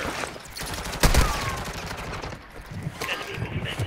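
Scattered gunfire and explosive shots in a video game shooter, with one loud sharp crack standing out among quieter pops and background battle noise.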